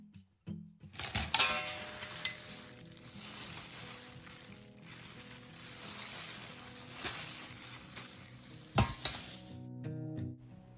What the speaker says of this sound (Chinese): 中间要拿出来，把这个肉整个翻过来翻一下